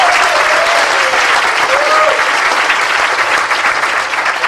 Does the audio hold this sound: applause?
yes